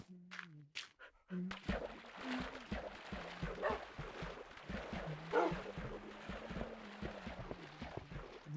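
Video-game dogs bark and yip in quick, repeated bursts across the whole stretch, mixed with whimpers and panting, while a voice talks over them.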